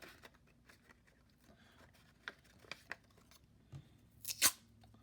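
Tape torn and pressed onto a paper 3D geometry model, heard as a few soft scattered crinkles and taps, then a brief louder ripping burst near the end, all close and fairly quiet with no talking.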